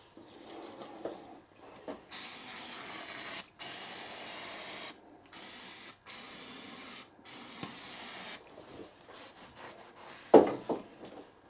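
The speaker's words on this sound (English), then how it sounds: "we'll just degrease this with some brake cleaner or something similar" Brake cleaner is sprayed onto a square collet holder to degrease it, in a series of close, hissing bursts separated by brief pauses. No one speaks.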